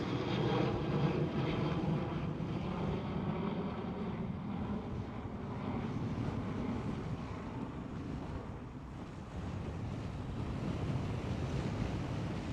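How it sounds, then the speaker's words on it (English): A Boeing 737 bound for Alicante departs Schiphol airport in Amsterdam, a steady broadband jet roar holding at moderate loudness throughout with a wind-like rush and no voices. "737 departing right now"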